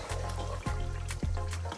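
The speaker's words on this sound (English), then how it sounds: "You see how our tomato and the meat is all frying?" Tomato and meat frying together in a pot for Gambian benachin, a steady close sizzle with a low bubbling hum, briefly interrupted twice by stirring scrapes before the frying resumes.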